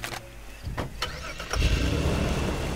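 A car engine in Far Cry 2 cranks with a few clicks and turns, then catches and settles into a steady, loud idle rumble.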